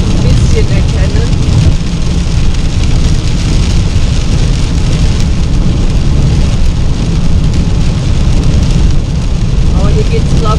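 Heavy rain during an autumn drive through fog toward Garmisch-Partenkirchen, a steady, loud, dense hiss of drops drumming on the car that holds unbroken for the whole stretch.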